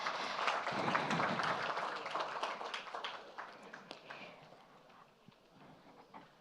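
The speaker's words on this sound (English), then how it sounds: "Kindly let's give a round of applause." A conference audience applauds, a dense wash of clapping that is loudest at the start, then thins into scattered individual claps and fades out near the end.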